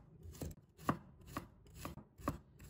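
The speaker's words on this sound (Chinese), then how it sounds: "给它切成蒜片" A knife slices garlic cloves into thin pieces on a cutting board, four or five distinct chopping strokes landing at a steady, unhurried rhythm, close and clear with no talk.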